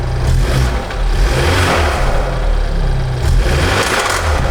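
A damaged N20 engine in a BMW 328si is revved hard, giving a loud, rough, continuous roar that swells and dips slightly over a few seconds with no voices.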